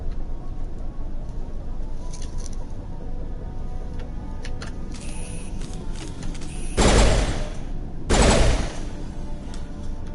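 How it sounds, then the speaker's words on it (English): Gunfire from a weapon in the Mass Effect game, with two loud close bursts standing out over a steady background hum, each burst a short cluster of shots rather than a single report. "Why are you shooting in a salvo of 3?"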